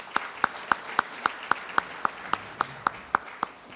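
Audience applause welcoming a speaker onto a conference panel: sharp, evenly spaced claps in a steady unison rhythm, roughly four per second, over a faint hum of background crowd noise.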